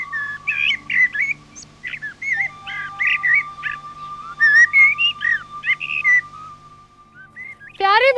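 A drab-coloured bulbul sings a varied, whistled song of quick phrases close by, with a steady tonal hum running underneath and a rising whistle at the end.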